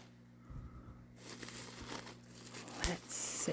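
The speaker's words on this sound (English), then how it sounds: "Sorry about the rustling." Crinkling and tearing of carefully packed wrapping as a parcel is unpacked, close and fairly loud, with bursts of crumpling that grow busier toward the end.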